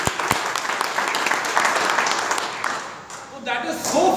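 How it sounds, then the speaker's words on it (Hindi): Audience applause at a training event in Dubai, dense clapping that runs throughout with a voice mixed in and rises again near the end. "एक बार तालियां हो जाए"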